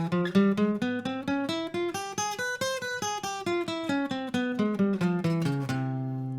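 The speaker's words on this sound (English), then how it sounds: "So the double harmonic major scale sounds like this." Fingerstyle guitar picking a double harmonic major scale up and then back down, a steady run of single plucked notes at moderate volume, closing on a held low note, with no one speaking.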